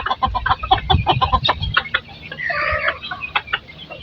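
A mother hen and other chickens cluck up close in quick, busy bursts, with one longer drawn-out call in the middle, over outdoor background noise.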